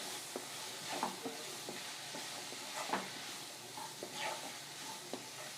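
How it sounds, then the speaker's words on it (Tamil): A spoon stirs a poha biryani mixture with a spoonful of yogurt in a pan, giving soft scraping and clinking strokes at an irregular rhythm over a faint background hiss, with no talking. "சேர்த்துட்டு எல்லாம் ஒரு சேர நல்லா கலந்து விட்டுக்கலாம்."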